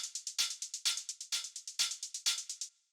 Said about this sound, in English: the next thing that we have here is a compressor, which sounds like this.